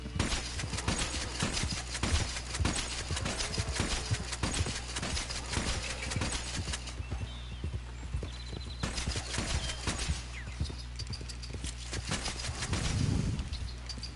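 Horse hooves clip-clop steadily in Red Dead Redemption on PlayStation 4, a brisk rhythmic gait close by with faint birdsong and rustling, briefly easing before resuming.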